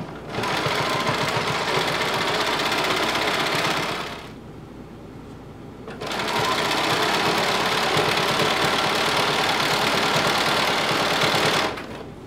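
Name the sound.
sewing machine stitching a hem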